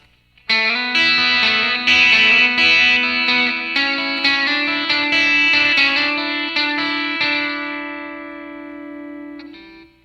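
An electric guitar plays a solo line from You Just Can't Beat Jesus Christ, with distorted, effects-laden sustained notes. Several picked notes ring on with a long held tone that slowly fades.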